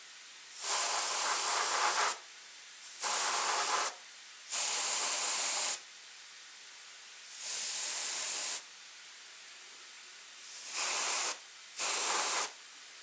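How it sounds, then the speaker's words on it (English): An airbrush sprays paint onto a Rickenbacker 620/12 guitar body in six loud bursts of bright hissing, each lasting one to two seconds, with quiet pauses between. "I'll patch those two areas in with the airbrush"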